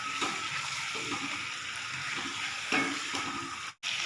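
Fish pieces fry in oil over high heat, a steady close sizzle and crackle running throughout with occasional stirring scrapes and a short break near the end.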